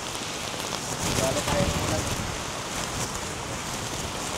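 Steady rain falls on an old mountain trail in Taiwan, a dense, close hiss of drops on surfaces that continues evenly throughout.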